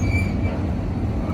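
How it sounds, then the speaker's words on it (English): A train rumbles past on the Indiana & Ohio Railway near a crossing, with a heavy low rolling roar of wheels on track and a faint high squeal, close and loud. "And there goes the train."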